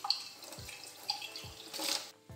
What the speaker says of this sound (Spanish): Comenzamos lavando bien los botes. Los lavaremos por dentro y por fuera, tanto los botes como las tapas.